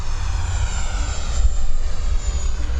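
An E-flite F-16 Viper RC jet with an 80mm ducted fan whooshes steadily on landing approach, a continuous airy roar that swells briefly mid-pass, with no talking.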